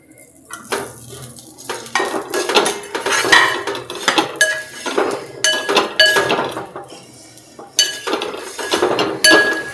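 Mango pieces being stirred in oil in a pan over a low flame for an oil mango pickle, with a spoon clinking and scraping against the metal in a steady, repeated rhythm, close by, with no talking.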